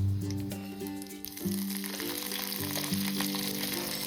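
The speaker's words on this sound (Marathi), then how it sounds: "लसूण आणि मोहरी छान असं तडतडलं" Crushed garlic and mustard seeds crackling in hot oil, a continuous sizzle with scattered small pops, heard close under a steady tonal background hum.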